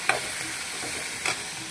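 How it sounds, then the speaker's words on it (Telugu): Green chillies fry in hot oil for a ridge gourd peel chutney, a soft continuous sizzle broken by two brief stirring scrapes, with no talking. "పచ్చిమిర్చి వేగుతున్నాయి."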